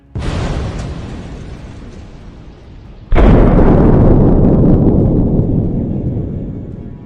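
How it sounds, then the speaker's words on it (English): A Russian armored vehicle blows up under an FPV drone strike: one loud blast followed by a long rumbling decay, then a second, heavier explosion that also rolls out slowly, both heard from a distance, with no voices present. "Geolocated footage captured precise strikes on Russian armored vehicles, with the lead vehicle exploding and blocking the path behind it."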